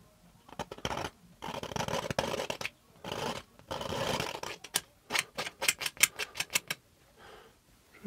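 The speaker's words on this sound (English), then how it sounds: "Trying to get the excess paint off there." Excess paint is scraped off a canvas in loud, rough strokes: long drags at first, then a quick run of short, sharp scrapes near the end.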